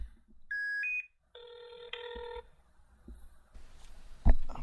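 Phone call placed to Emerson Spartz: a few dialing tones, then a ringing tone on the line, followed by faint clicks and a brief thump, heard alone with no talk.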